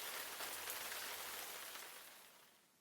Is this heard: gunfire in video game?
no